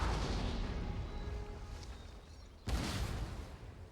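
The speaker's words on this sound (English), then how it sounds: "Their cannons come on, wait." Cannons fire in the Empire: Total War strategy game, a muffled boom fading out, then a second sharp, louder blast near the end, set against a rumbling battlefield background without speech.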